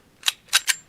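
Three sharp cracks from a Hammerli 1911 pistol chambered in .22 LR at a range: one shot, a short pause, then two quick shots close together, each loud and crisp.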